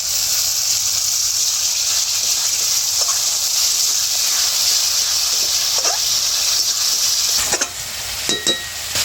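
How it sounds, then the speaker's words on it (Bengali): Tomato paste hitting ginger and garlic frying in oil for a Sundarbans river fish curry gives a loud, steady sizzle and hiss, with a few scraping stirs near the end. "আদা রসুন একটু ভেজে নিয়ে দিয়ে দেবো টমেটো পেস্ট।"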